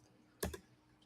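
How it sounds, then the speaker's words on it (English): A couple of quick, quiet keystrokes tap on a computer keyboard, close by in an otherwise hushed room. "let's see if I can find it just by typing BT"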